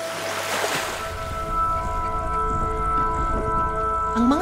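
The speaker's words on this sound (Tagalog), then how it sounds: "Lakas pa naman ng agos." A river swollen after days of rain rushes steadily, with farmers crossing on carabao nearby. The continuous wash of water runs throughout and sits under a droning, motor-like hum.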